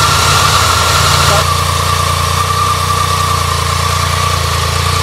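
BMW K75 motorcycle engine idling without choke after weeks unused, burning off oil and smoke with a backfiring exhaust: a loud, steady, close mechanical thrum with a slight shift in tone early on.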